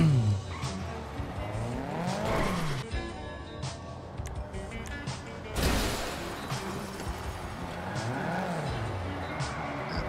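A big truck drives in GTA V with repeated tire squeals and skids, the engine roaring loudly and close, with a sharp burst of noise partway through.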